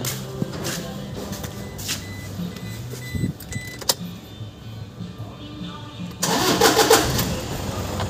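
Toyota Hilux with a charging-system fault cranking and starting, a short whirring start amid shop clatter, then the engine catching and running louder near the end.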